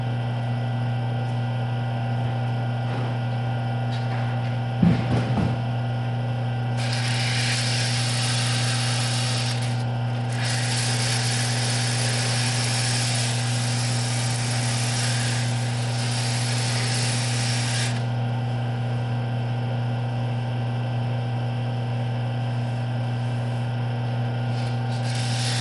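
Sanding a turned workpiece on a lathe with 80-grit paper: steady hum and motor drone throughout, with a brighter hissing abrasion rising in the middle stretch, a brief knock near the start, no talk.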